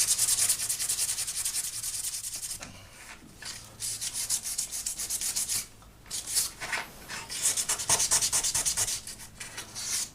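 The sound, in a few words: sandpaper cleaning copper piece before soldering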